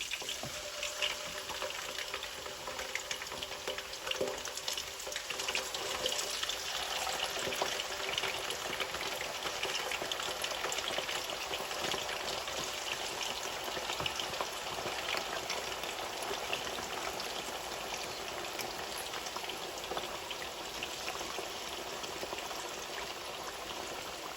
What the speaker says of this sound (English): I will start frying my yam as well. I'm using my electric frying pan for the yam.